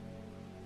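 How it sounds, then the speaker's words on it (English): Soft, steady rain in the cozy plant-shop game Strange Horticulture, a faint, even patter laid over a low humming musical drone. "I love the rain here."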